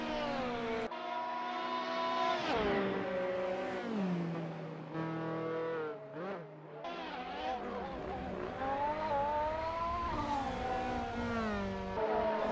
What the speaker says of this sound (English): it's incredible fun overtaking these cars and racing on these roads